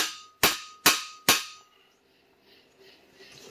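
Three sharp, ringing metallic hammer strikes land in quick succession, close and loud, tapping a cam bearing into a Slant 6 engine, followed by a quiet tail.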